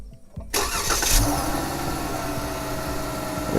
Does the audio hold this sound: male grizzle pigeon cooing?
no